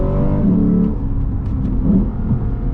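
A Lexus GS F car accelerates under steady, loud engine drone from inside the cabin, with subtle tonal shifts suggesting gear changes and no talk.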